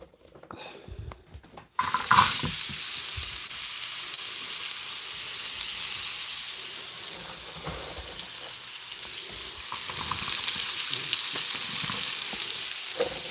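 Food sautéing in a hot pan gives a steady sizzle after a brief quiet start, with occasional scraping and stirring noises over the frying.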